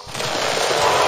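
In the Harry Potter and the Philosopher's Stone video game, an Incendio spell cast on spiky bushes gives a brief, loud whooshing burst of flame that swells and holds for about a second.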